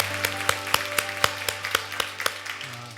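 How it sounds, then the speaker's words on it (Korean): Church congregation clapping in thanks, a steady, evenly spaced beat of sharp claps about four per second, fairly close and alone, with a low sustained tone underneath. "우리 하나님께 감사의 박수를 드리겠습니다."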